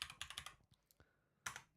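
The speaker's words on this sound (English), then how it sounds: "my keyboard is working now" A computer keyboard clatters in quick bursts of close, crisp keystrokes, a short flurry, a brief pause, then another cluster of taps.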